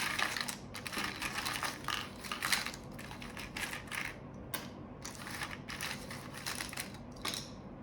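Tarot cards being shuffled, a run of quick riffling flutters and soft slaps in bursts with brief pauses, close and fairly quiet, no voices.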